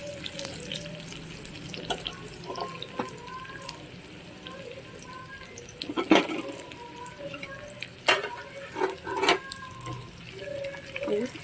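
Chana dal, dry red chillies, garlic cloves and onions frying in a pan with a steady low sizzle and occasional spoon scrapes and clinks, close, under a voice speaking.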